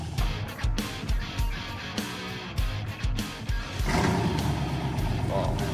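A 1975 Ford Ranchero's engine idles with a deep, throbbing rumble, its pulses steady and then thickening into a fuller, louder roar as the transmission is shifted through reverse, neutral and drive, with close voices talking over it.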